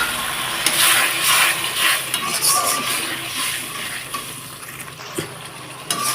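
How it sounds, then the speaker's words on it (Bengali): Crab masala fries in a pan just after a splash of water goes in, giving a steady loud hiss and sizzle with stirring scrapes and occasional metallic clinks of utensil against pan. "তার মধ্যে এখন সামান্য পরিমাণে একটু জল দিয়ে দিলাম"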